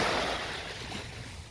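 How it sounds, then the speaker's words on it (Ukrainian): Waves wash steadily along the Tyrrhenian Sea coast near Rome, a continuous, even roar of surf with no talking. "Вітаю з узбережжя Риму Тіренського моря."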